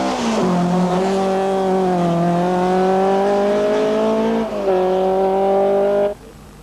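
Audi Quattro 80 Group A rally car at the 1985 Hellendoorn rally, driving on wet tarmac; a loud, close engine note holds high and steady, dips briefly mid-pass with a gear change, then cuts off abruptly near the end.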